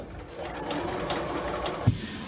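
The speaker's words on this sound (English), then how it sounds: "I'm just going to be sewing on very, very close to that edge" A sewing machine stitches a wrap skirt hem very close to the fabric edge, running with a steady fast mechanical whir and needle chatter nearby, then stopping with a small thump near the end.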